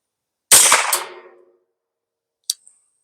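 A sharp, loud gunshot cracks on an outdoor shooting range and rings out with a decaying echo, aimed at Sput targets, followed two seconds later by a short metallic ping and a faint tick.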